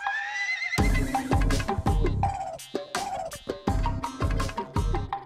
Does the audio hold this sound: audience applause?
no